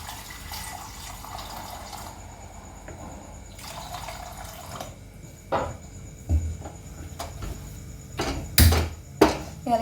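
Filtered water pours onto soya chunks in a kitchen, a steady close trickle and splash that ends with a few louder knocks and clatters of the vessel, no voices.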